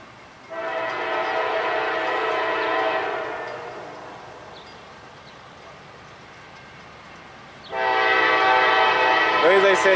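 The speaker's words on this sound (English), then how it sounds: "CXXQ 141, intermodal / juice train, coming by Folkston, Georgia," A CSX intermodal juice train passes through Folkston, Georgia, and its horn blows two long, loud blasts separated by a few seconds. A lower rumble of the moving train carries on between the blasts.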